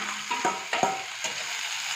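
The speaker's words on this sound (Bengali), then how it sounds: "এটা একটু ভাজা ভাজি হবে" Fresh radish greens fry in a pan with a close, steady sizzle and a few soft scraping stirs, with no voices.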